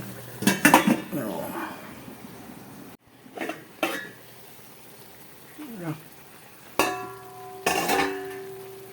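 Lid clattering onto a pot of chicken and pork adobo: a few sharp metallic clanks and rattles spread across the moment, close by, with quiet gaps between.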